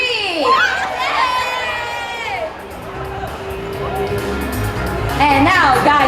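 A large crowd at an anime convention meet and greet cheers and shouts, a loud blend of many voices with high-pitched screams rising and falling, then a fresh surge of cheering near the end.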